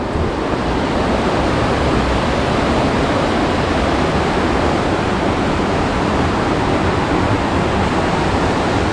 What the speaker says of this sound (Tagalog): Panigang River.